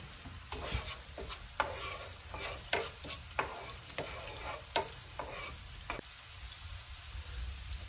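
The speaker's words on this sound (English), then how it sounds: "I've got the heat over medium. So we're gonna saute those" Bell peppers sauté in a pan over medium heat, a steady sizzle punctuated by a regular series of sharp spatula scrapes and stirs, no voices.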